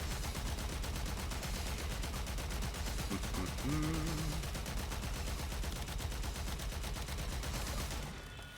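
Rapid automatic gunfire in the Warframe video game rattles on continuously and densely at a steady level, with a brief tonal in-game chirp partway through before the firing eases off near the end.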